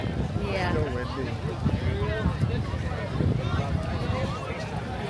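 Wind gusting across the beach at Coco Cay, a steady, close roar buffeting the microphone with no letup, faint voices mixed in beneath it.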